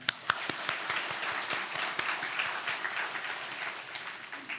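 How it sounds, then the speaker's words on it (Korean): A church congregation applauds the choir after a hymn, a fairly quiet round of clapping with distinct sharp individual claps near the start blending into a softer continuous patter. "다시 한번 찬양대의 찬양에 감사를 드리고 우리 격려의 박수를 한번 할까요?"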